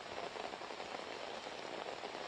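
A heavy monsoon downpour in Mumbai makes a steady, dense hiss of rain striking surfaces, constant and fairly loud throughout with no voices.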